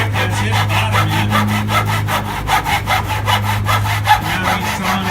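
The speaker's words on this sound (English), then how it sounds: "Now he's sawing it off with the handle." Hand saw cutting wood at a cooperage class, with steady rhythmic back-and-forth strokes, close and loud over a constant low hum.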